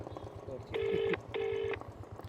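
A mobile phone call ringing out after a number is dialled: two long electronic ring tones with a short gap between them, over a low background murmur.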